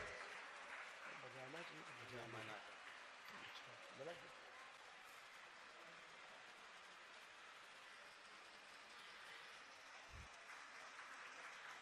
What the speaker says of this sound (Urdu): زوردار تالیوں سے استقبال کریں